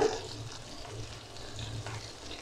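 Ginger paste frying in a pan of oil for prawn curry, a low, quiet, steady sizzle with a slight stirring texture and no voices.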